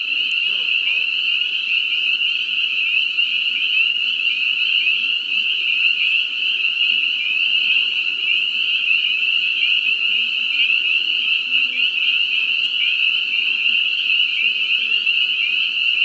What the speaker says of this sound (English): hearing this sound of the spring peepers in springtime